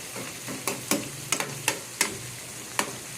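Garlic buttered shrimp are stirred in a frying pan, a soft sizzle running underneath as a utensil scrapes and knocks against the pan in irregular sharp strokes, close and fairly quiet.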